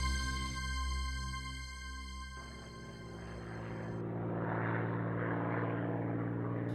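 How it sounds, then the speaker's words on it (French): An enemy reconnaissance propeller airplane drones steadily overhead, its engine tone holding at a moderate level and swelling slightly toward the end, with no talk. "Un avion de reconnaissance ennemi survole les lieux"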